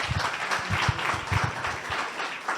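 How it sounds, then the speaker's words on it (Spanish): Audience applause at a national alumni follow-up forum, a steady wash of clapping from a seated crowd that holds at an even level for a couple of seconds, with a few deeper thumps mixed in. "un aplauso, por favor."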